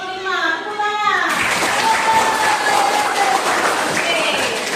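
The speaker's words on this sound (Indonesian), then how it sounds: "Tepuk tangan." A classroom of high school students claps together in a steady, loud burst of applause that continues throughout, with a few voices mixed in.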